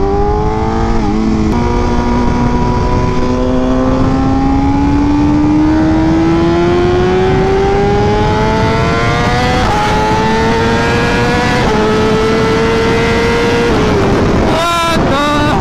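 A loud BMW M1000RR sport motorcycle with a full titanium SC exhaust accelerates steadily, its exhaust pitch climbing through gears with brief shift dips, close up over constant wind rush.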